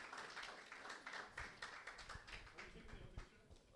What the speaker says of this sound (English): Another round of applause to our finalists